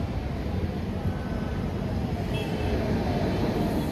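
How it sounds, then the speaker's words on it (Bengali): A train rumbles steadily at close range as it arrives at Santragachi station platform 1, a continuous loud low roar of wheels and carriage noise with no pauses. "ট্রেন ঢুকছে এখন সাঁতরাগাছি স্টেশনে, প্ল্যাটফর্ম নাম্বার 1।"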